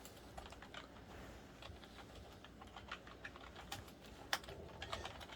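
Typing on a Redragon S101-5 wired gaming keyboard, a quick irregular run of close, crisp key clicks with an occasional louder keystroke, and no talking.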